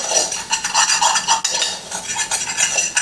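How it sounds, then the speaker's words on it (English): A spoon stirs butter into a pot of cooked rice, giving soft repeated scraping and clinking of utensil against cookware, close and steady with no talk. "We're going to stir in the butter"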